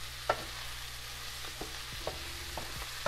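Shredded cabbage frying in oil in a pan, with a quiet steady sizzle and occasional spoon scrapes and taps as it is stirred, heard close and alone.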